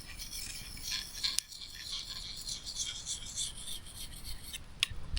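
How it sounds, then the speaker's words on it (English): A knife rubbed in circles on a whetstone outdoors in the wilderness, a soft gritty rasping that swells and fades in repeated strokes, fairly quiet and close. "This whetstone simply says to move it in a circular motion."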